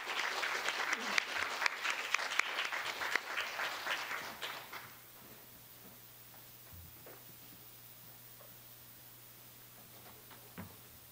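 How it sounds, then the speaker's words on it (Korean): Applause from a seated audience at a Korean jobs forum greets a guest speaker, a dense burst of clapping that dies away after about five seconds, leaving a quiet hall with a few isolated sounds. "큰 박수 부탁드립니다."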